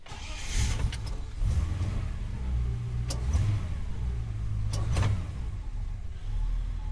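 A Holden HK Premier wagon engine cranks and catches after a couple of accelerator pumps, a loud, close car engine running with several sharp clicks and clunks over it and no talk.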